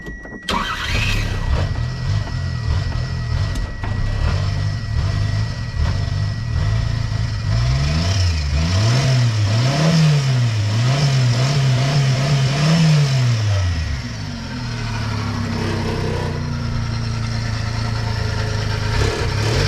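An old Kei truck engine with a shaky alternator idles roughly up close, revs up and down in several uneven throttle blips, then sags back toward a faltering idle as if about to stall.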